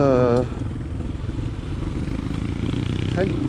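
Honda XLR125R motorcycle cruising steadily at 80 km/h on small country roads in France, a continuous mid-pitched engine drone with wind rush, running close and fairly loud under a voice talking throughout.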